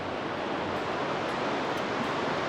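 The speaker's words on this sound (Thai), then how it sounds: "บรรยากาศดีมีน้ำไหลผ่านข้างหลังเลย" A river flows steadily behind a riverside cafe in rainy-season Chiang Mai, a continuous broadband rush of water with no pauses and no voices.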